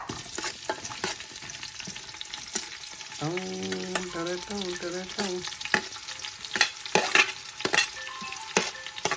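Onions frying in oil in a pan while being stirred for a mutton biryani: a steady, close sizzle with repeated scraping stir strokes and clatter. A brief tonal sound rises midway, and no speech is heard.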